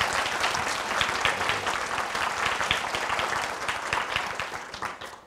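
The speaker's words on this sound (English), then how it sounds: "I think we should give him a big round of applause for that" An art club audience claps steadily in a lecture setting, a dense, even wash of many hands that holds for several seconds before slowly thinning out.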